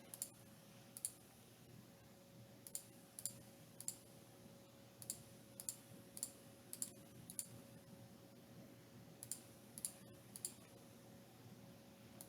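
Keys pressed on a TI-84 calculator to enter a function, a series of quick, crisp plastic clicks at an uneven typing pace, very faint and close, with a steady background hum and no talk.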